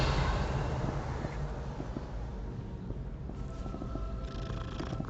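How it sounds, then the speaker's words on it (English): A cat purrs steadily in the video game Hogwarts Legacy, a continuous low rumbling that runs without a break under a soft, noisy ambient bed, with no talking. "That's a unique pattern cat."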